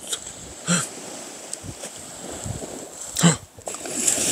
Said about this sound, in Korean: 파도 소리가 무서워